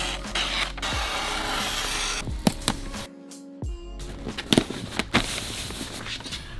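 Gift wrapping paper around a boxed Nespresso machine, with rustling, crinkling paper, rubbing and scraping sounds, and a few sharp taps and crackles, close and intermittent.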